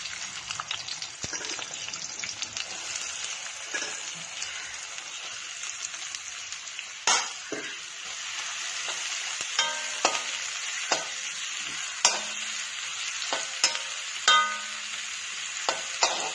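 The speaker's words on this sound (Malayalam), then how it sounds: "വെളിച്ചെണ്ണ ചൂടായി സവാള ചേർക്കാം." Onions fry in hot coconut oil with a constant crackling sizzle. Sharp spatula clacks and scrapes punctuate it every second or two, growing more frequent toward the end.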